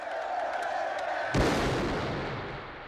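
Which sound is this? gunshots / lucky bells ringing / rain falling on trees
gunshots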